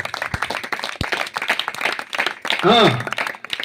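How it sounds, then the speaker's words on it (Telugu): A church audience at a birthday gathering claps loudly, with a couple of sharp single claps and then dense applause, while a voice carries over it. "చప్పట్లు కొట్టండి గట్టిగా."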